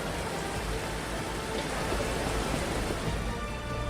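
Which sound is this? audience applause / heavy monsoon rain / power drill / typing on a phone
heavy monsoon rain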